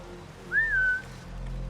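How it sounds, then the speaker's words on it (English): A character in the video game Assassin's Creed Mirage gives a single clean whistle, a short rising then gently falling tone held for about half a second over a low steady game ambience. "I guess I'll whistle."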